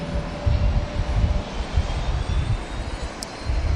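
A Jetstar airliner roars steadily on takeoff from runway 34 left at Sydney Airport, a broad, continuous engine rumble heard from a distance with no talk over it.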